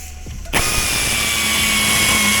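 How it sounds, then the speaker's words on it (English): A power tool blade cuts a slit in a car part, starting abruptly after a brief quiet moment and then holding a loud, steady high whine with grinding texture. "just want to run a slit in there with the blade"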